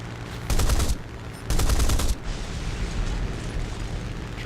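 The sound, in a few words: 20 mm aircraft cannon fire in War Thunder video game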